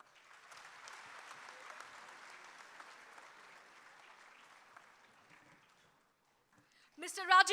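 A hall audience at a stone-unveiling ceremony with students in Srinagar applauds Deepak Parekh: steady, moderately distant clapping for about five seconds that fades into near silence before a voice begins speaking.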